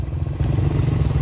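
Motorcycles pass through a hill village in Lamjung, Nepal, their engines a steady, close, low rumble that holds for the whole moment with no talking over it.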